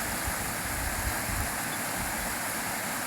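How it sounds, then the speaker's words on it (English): A river rushes steadily at a trail crossing on a summer ride toward Dirty Face Trail, a loud, broadband wash of flowing water that fills the whole moment without a break. "We cross the river right here"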